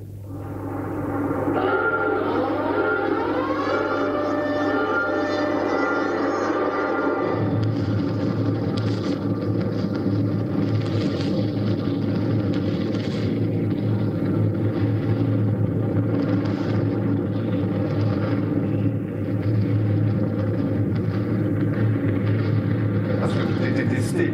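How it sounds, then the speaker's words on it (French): Saturn V F-1 rocket engine firing on a test stand, a massive continuous roar with a brief rising whine at ignition before settling into a loud, dense, unbroken rumble. "vous allez voir le moteur F1 sur un banc d'essai"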